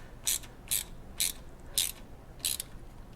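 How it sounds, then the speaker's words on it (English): Palm ratchet loosening the transmission fill plug on a BMW i8, five short, crisp clicking bursts at a steady pace, close and fairly quiet. "I'll just use the palm ratchet"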